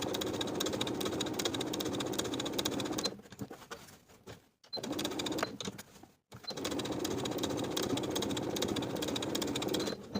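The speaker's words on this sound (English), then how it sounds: "Now I'm going to edge stitch along the fold, pivoting at the top to sew straight across at the bottom of the V." A sewing machine edge stitching along a fabric fold and pivoting at the top, running in a steady close mechanical whir that stops twice for brief pauses before resuming at an even pace.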